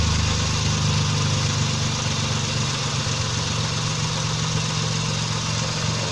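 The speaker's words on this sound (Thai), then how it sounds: "ติดเครื่องยนต์เลย" A Nissan March car engine idles steadily with a low, even rumble and faint vibration, continuous throughout with no voices.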